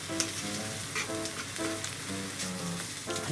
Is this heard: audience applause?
no